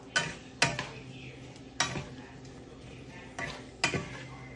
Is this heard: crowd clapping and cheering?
no